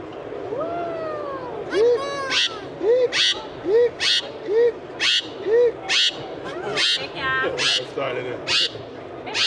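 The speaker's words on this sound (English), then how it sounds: "This bird loves to sing." A bird sings a repeated series of rising, whistled notes at a steady rhythm, close and fairly loud, with brief sharper calls between them at an expo in Toronto.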